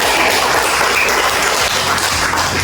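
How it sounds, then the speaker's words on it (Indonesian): Dense, loud applause from the audience at a school staff work meeting at SMPN 109 Jakarta, a continuous close wash of many hands clapping with no talk over it. "Kasih tepuk tangan sekali lagi."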